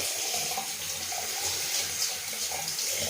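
Tap water runs in a continuous, even rush as a Gillette Mach 3 razor with a fresh blade is rinsed under it, close and steady with no pauses or talking.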